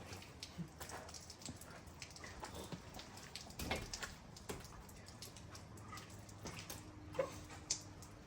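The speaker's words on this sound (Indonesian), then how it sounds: "kita masih terjebak hujan di warung di pos kawah ya" Rain pattering steadily on the roof of a roadside stall at a mountain rest stop near the crater on Mount Batur, a dense soft hiss of drops with occasional louder taps, no talking.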